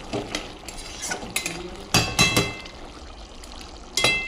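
Chicken kosa being cooked in a pan as liquid is poured in, with metal utensil clinks and scrapes in short bursts between quieter stretches; no talking.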